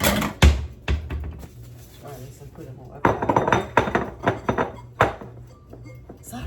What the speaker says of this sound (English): All right, let me wipe these dishes and put them up.